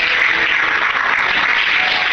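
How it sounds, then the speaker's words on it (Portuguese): A church congregation claps steadily, a dense, even wash of applause with no pause. "Será que você pode aplaudir e exaltar ao Senhor esta manhã?"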